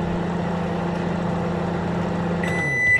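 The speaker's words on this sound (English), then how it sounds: "we're gonna stick this in the microwave and see what happens" A microwave oven runs with a steady low electrical hum droning on continuously, with a brief high beep near the end; no voices.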